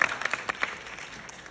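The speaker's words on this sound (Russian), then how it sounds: "Аплодисменты, друзья." A short burst of audience applause at a network marketing event in Moscow, scattered claps fading quickly in a large room.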